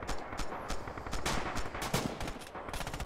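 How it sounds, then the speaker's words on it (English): Rapid machine-gun cover fire in the WWII shooter video game Red Orchestra 2, a dense stream of overlapping shots from several guns, some near and some farther off, continuing steadily throughout. "There, we've got some MG cover fire, so nobody's going to be coming out of that alive."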